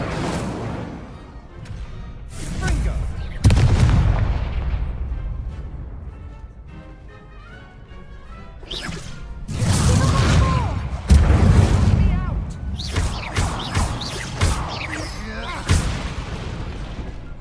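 Fire spell casting in the video game Hogwarts Legacy, a booming whoosh of flame amid a duel, with several loud bursts and crashes mixed with other spell effects and game sounds.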